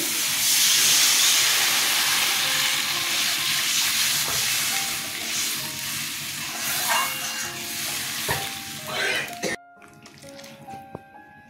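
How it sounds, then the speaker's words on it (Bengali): Water poured into a hot pan for Bengali parse fish curry, giving a loud, sustained steamy hiss that gradually softens, then cuts out abruptly near the end, leaving faint clinks. "জল দিয়ে দিচ্ছি"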